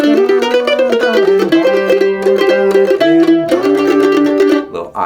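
A mandolin plays Will the Circle Be Unbroken in Monroe-style bluegrass, with quick tremolo-picked notes and sliding double stops, bright, loud and close, with no voices.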